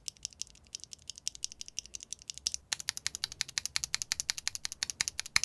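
Typing on a mechanical keyboard with C3 Tangerine switches, a steady run of crisp, fairly close keystroke clicks with a short pause partway through, then rapid even strokes, no voices.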